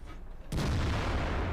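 An IS-8 heavy tank's cannon fires in World of Tanks on the Redshire map, a sudden loud blast after a brief lull, followed by a sustained rumbling echo and tail of battle noise.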